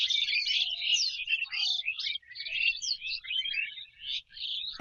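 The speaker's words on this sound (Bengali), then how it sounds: "এত সুন্দর পাখির ডাক আর কোথায় পাবে বলো।" Several birds sing in a village tree on a winter day, a quick run of bright chirps and trills close by in an otherwise quiet setting.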